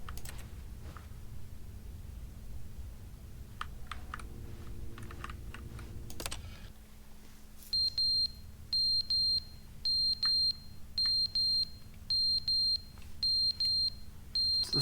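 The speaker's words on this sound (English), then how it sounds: "It's the fire alarm." A fire alarm in The Stanley Parable video game beeps in a steady, repeating pattern of short high-pitched chirps across the second half, after a stretch of quiet keyboard typing and background hum.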